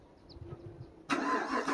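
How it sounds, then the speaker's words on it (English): A Chevrolet Caprice PPV police car with its V8 engine and the muffler deleted cold starts after a quiet moment. It cranks and catches into a loud, rough, close-up rumble that carries on to the end. "It's a cold start right there."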